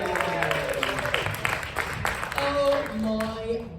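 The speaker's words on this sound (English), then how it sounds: "Please give a round of applause to welcome Danielle Dardashti." Crowd applause with scattered cheers at a stand-up comedy night, steady clapping throughout while music tones rise underneath toward the end.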